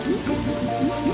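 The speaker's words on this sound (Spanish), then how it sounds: "es lluvia mágica" Cartoon magical rain, a short soft patter of droplets falling on a surface with a faint shimmering tone underneath.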